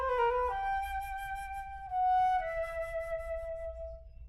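A solo flute plays a short ornamental turn around B instead of a trill, a few clear stepwise notes sliding down and settling on a long sustained tone in a quiet room.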